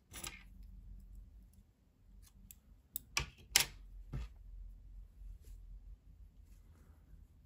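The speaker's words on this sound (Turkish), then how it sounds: "İpliği kesiyorum." Scissors snip through yarn in a few quick, sharp clicks amid quiet handling noise, close and soft against a low background hum.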